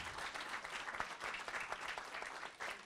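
A conference audience applauds four panelists after a discussion, with steady clapping that is moderately loud and lasts throughout.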